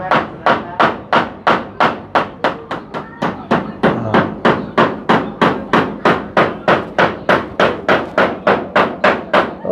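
Hammer blows drive nails into wood during house construction, a long, steady series of sharp, evenly spaced strikes, close and loud, with no talk.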